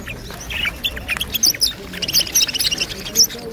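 Rosellas and small songbirds call at a caged bird market stall, with repeated sharp chirps and squawks in quick irregular bursts, fairly close and loud, over a low murmur of market background.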